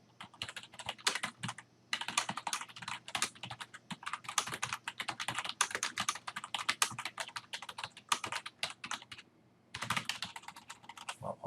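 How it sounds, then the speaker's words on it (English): Continuous typing on a computer keyboard while form details are entered, brisk clattering keystrokes in bursts with brief pauses, close and clear with no talking. "And then they continue filling in the details here below as they type."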